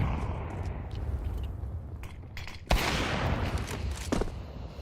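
Gunfire fills a Counter-Strike round as a dense, continuous crackle of shots over rumbling game ambience. One sharp, loud report stands out midway, followed by further scattered shots.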